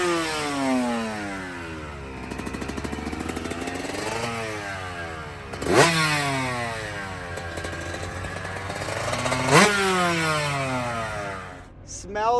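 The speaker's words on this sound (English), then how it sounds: "long live the two-strokes. And I got to say, Yamaha is holding up their end of the bargain" A Yamaha two-stroke dirt bike engine revs repeatedly at a race, its pitch sweeping up and down in rising and falling harmonic waves with a couple of sharp throttle blips, loud and close throughout.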